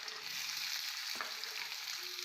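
Onion, garlic and green chili fry in hot oil in a Bengali home kitchen, giving a soft, steady sizzle with faint stirring and no talk.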